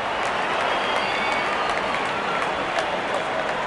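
Spectators at a Sri Lanka vs New Zealand Test cricket match applaud a batsman reaching fifty, a dense, continuous wash of clapping and crowd noise at steady volume with some commentator talk mixed in.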